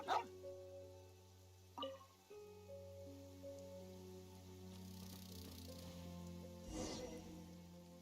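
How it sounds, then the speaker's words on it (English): Hauptmann, a dog in the Genshin Impact video game, lets out a couple of short barks near the start over steady ambient game music and soft rain-like background. "Why the barking at the cemetery?"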